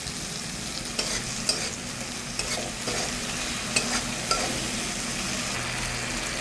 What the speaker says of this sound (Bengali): একটু ভালো করে এবার কষিয়ে নেব।